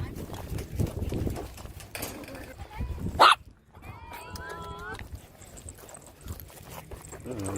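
A chihuahua yaps in short sharp barks between bursts of people talking nearby, with one loud close bark standing out amid the chatter.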